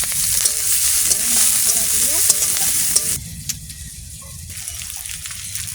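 Garlic fries in hot oil in a wok, a loud, close, steady sizzle with stirring, dropping to a quieter crackle partway through, while a voice speaks briefly underneath.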